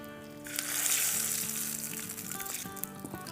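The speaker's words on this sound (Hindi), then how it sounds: "अब इस पे खिचड़ी पे तड़का देंगे, घी का और कड़ी पत्ते का," Ghee with curry leaves and dried red chilies is poured as a tempering over vegetable khichdi, giving a sudden hissing sizzle that swells, then settles into softer crackling under a faint background tone.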